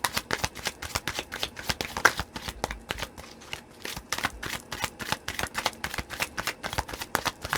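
Tarot cards are shuffled close up in a long run of crisp riffling flicks and soft slaps, sounding alone with no talking.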